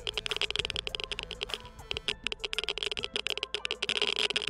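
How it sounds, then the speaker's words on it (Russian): Minecraft basalt deltas ambience in the Nether, a busy stream of sharp dry clicks and ticks in irregular fast bursts, like a crackling dosimeter, steady and close with no voices. "это игрок может понять по звуковым дорожкам под названием клики базальтовых дельт"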